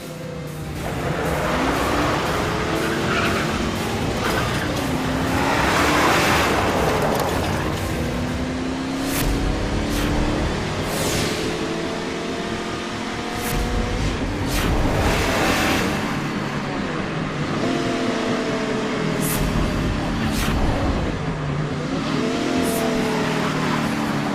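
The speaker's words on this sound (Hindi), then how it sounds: "गाड़ी आगे क्यों नहीं बढ़ रही है?" A car engine runs and revs hard while the car stays stuck, unable to move forward, with a loud continuous drone rising and falling in repeated pushes, close by and without speech.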